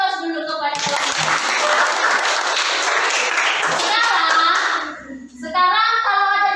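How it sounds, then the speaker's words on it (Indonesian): Audience clapping for a group that has just presented in a classroom, a dense burst of applause lasting about four seconds before fading, with a voice speaking briefly before and after. "Kasih aplaus dulu kepada kelompok."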